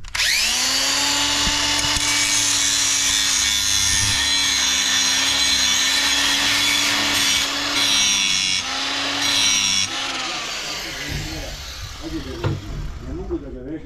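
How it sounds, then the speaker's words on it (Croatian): An angle grinder rough-grinds a metal part while fitting an electronic seeding control, its high, steady whine grinding for about ten seconds before spinning down, and someone speaks over it. "Znači prvo skinemo sad grubo brusilicom"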